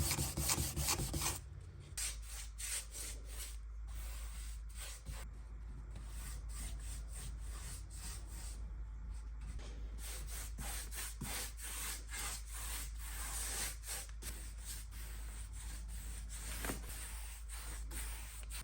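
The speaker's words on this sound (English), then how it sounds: "After all the wood fill dried, I gave it a really nice sand" Sanding of dried wood filler on an IKEA Billy bookcase built in as a unit, heard as rapid, continuous rasping strokes, close and fairly loud, with a low steady hum underneath and no talk.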